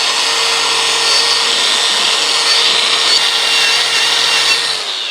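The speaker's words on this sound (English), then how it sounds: "I'm just gonna come in here with a wire wheel, and I'm just gonna clean these up as good as I can" Wire wheel spinning steadily against a cane mill bearing housing, a constant close scratching whir lasting the full few seconds with no pauses.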